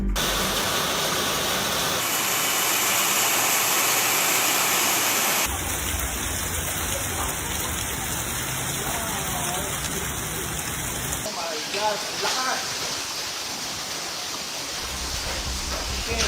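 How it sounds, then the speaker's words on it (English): A dense, roaring wash of hail pounding surfaces and car windshields in Brooklyn, steady and loud throughout, with shifting texture and faint voices underneath. "A quick hailstorm swept through parts of Brooklyn on Saturday morning."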